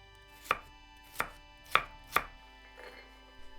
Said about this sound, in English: Chop 1 carrot into small cubes.